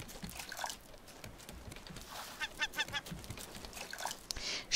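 Seagull in the survival game Raft pecking at a scarecrow on a raft: a few short honking squawks and clustered pecking clicks over a steady watery background, moderately close.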